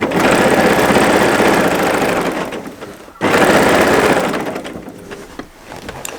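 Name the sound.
domestic sewing machine quilting a fat quarter quilt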